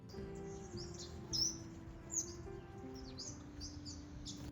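Birds chirp outdoors near an open cooking fire, several short bright tweets scattered over a low steady background hum, with one or two louder calls standing out and no one talking.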